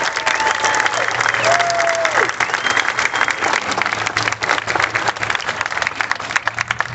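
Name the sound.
audience applause at a community center opening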